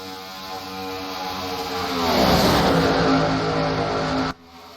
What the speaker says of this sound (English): As the cars roar to life off of turn 2, Slager clears, Gordon in second.